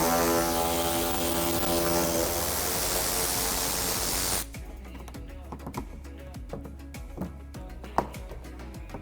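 A power tool zipping out bolts from an underbody panel on a 2015-2020 Ford Mustang, a loud, steady whine with a harmonic hum for several seconds, then stopping, followed by scattered light clicks and taps.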